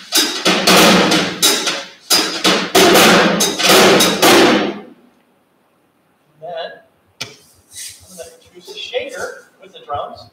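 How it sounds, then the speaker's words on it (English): A drum struck repeatedly, then scraped with brushes during a lecture recital. Several loud, close, ringing hits come in quick clusters, then a short silence, followed by quieter, softer sounds and talking. "I'm also going to actually basically rub or scrape the drum with brushes"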